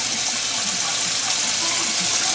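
Hot tap water pours in a steady, dense rush that stays constant and fairly loud throughout.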